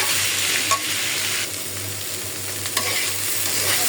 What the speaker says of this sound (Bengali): এবার আমি করলা ভাজিটা বসাই দিলাম।